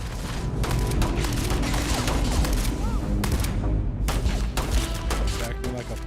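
Rapid automatic gunfire in a space combat video game, loud and dense, rattling continuously with booming bursts, with a voice speaking over it.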